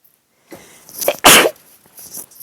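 A single loud sneeze preceded by a short sharp intake of breath, then quiet rustling afterward.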